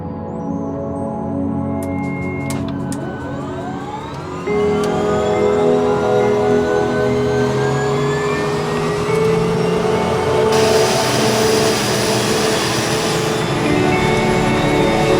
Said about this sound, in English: And then we will take her outside to start the engine for the first time after it's repaired.